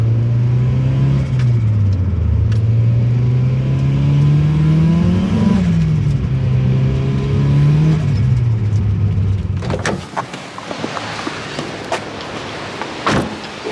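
A turbocharged Honda Civic with a D15B engine drones steadily from inside the cabin, its pitch climbing and dropping through gear changes, then giving way to a few sharp knocks and clatters near the end.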